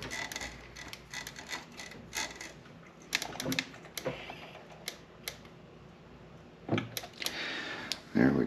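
Screws being tightened by hand on the steering of an Arrma Big Rock 6S RC truck: sparse, close mechanical clicks and small taps at irregular intervals, with a few sharper knocks, over a quiet background.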